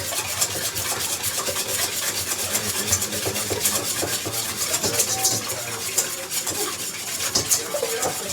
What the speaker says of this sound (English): Alright, that's all whisked